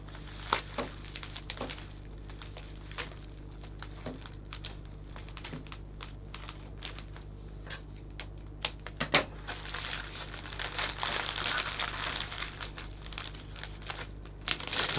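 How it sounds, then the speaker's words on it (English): Cellophane wrapped around a hand-tied flower bouquet crinkles softly and intermittently as it is handled. The crackling grows busier and louder toward the end. The sound is close and fairly quiet. "we're going to trim away any excess cellophane that's at the back and around the flowers"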